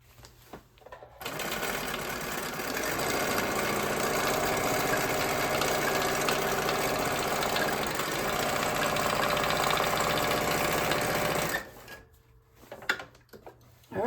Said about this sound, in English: The first time I just went with a running stitch, and this time I'm going to go with, I'm going to switch back and forth between zigzag and straight stitch